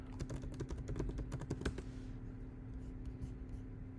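Rapid clattering keystrokes on a computer keyboard, close and crisp over a low steady hum, then thinning to a few scattered taps, with no talk.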